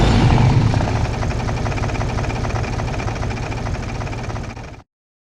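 A van engine sound built with granular synthesis in the Igniter plugin runs as a steady, buzzing drone from engine side to exhaust. It holds fairly level, then cuts off abruptly near the end, with no talk.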